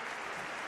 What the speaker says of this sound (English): He takes the round of applause